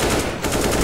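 Automatic gunfire in the game CS:GO, sprayed blindly without a crosshair, a dense, loud rapid burst of shots filling the whole moment with only a brief dip midway.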